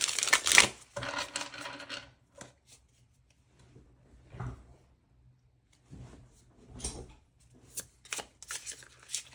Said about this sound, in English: I feel the need to shuffle one more time